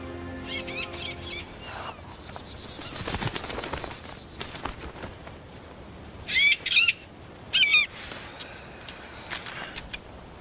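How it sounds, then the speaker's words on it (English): An owl-like bird gives a few short, sharp calls, two loud paired bursts in the middle and one more soon after, over a low background of rustling and soft noise. "You talked to that bird. It listened to you."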